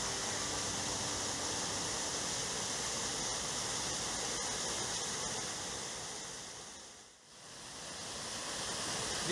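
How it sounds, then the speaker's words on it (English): A waterfall on the Mount LeConte trail roars as a steady, dense broadband rush of falling water, loud and constant with one brief dip near the end. "Another beautiful waterfall."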